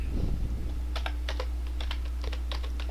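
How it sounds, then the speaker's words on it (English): Quick, crisp keystrokes on a computer keyboard as a username is typed while creating a user on Windows Server 2016, clicking in an uneven rhythm over a steady low hum with no talking. "then simply type Susan"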